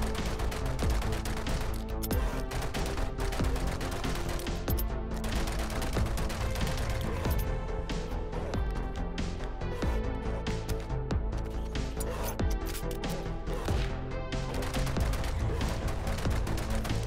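Dense, continuous automatic gunfire from a 7 Days to Die wasteland battle, loud rapid bursts layered over each other for the whole stretch without pause.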